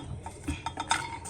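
Pistachios being stirred as they dry-roast in a pan over low heat for Tamil dry fruit laddu, giving a few soft scraping and light clinking strokes close by.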